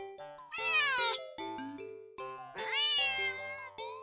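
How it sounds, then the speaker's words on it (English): A very vocal cat meows loudly and insistently, several drawn-out cries in a row, heard close up over a faint steady background tone with no talking. "Very noisy, very vocal cat."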